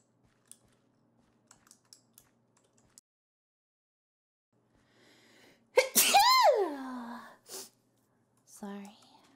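A single loud sneeze bursts out close by after a quiet stretch, with a sharp intake before it and a brief trailing breath afterward.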